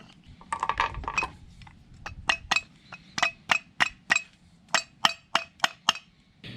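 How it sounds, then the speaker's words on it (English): Rubber mallet tapping a pulley off the water pump of a Volvo B20 engine, a run of about fifteen sharp, close metallic knocks in an uneven rhythm, bunched at first and then spaced out, with no talk. "So I got it off with a few taps of the mallet"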